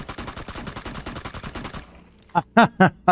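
Rapid automatic gunfire from the mobile game PUBG Mobile: a fast, even stream of shots for nearly two seconds, then a short pause and three or four louder, separate bangs close up.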